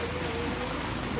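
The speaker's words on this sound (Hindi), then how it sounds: "बारिश होने लग गई बहुत जोर से।" Heavy rain pours down outdoors during a home puja gathering, a soft, steady hiss of drops through the short moment, with no voices.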